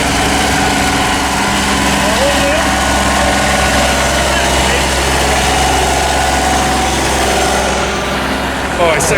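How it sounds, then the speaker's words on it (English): Tractor engines idle and run steadily at a wet Christmas tractor run in Horton, a loud continuous mechanical drone with a low throb close by and little change throughout. "There's a lot of tractors arriving."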